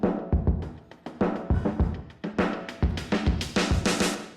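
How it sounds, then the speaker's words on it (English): Sampled drum loop from Splice run through a filter to build a pre-chorus, steady kick and snare pattern whose bright top end opens up and grows louder and sharper over the bar. "take a drum loop from Splice and use a filter on it to build intensity during the pre-chorus"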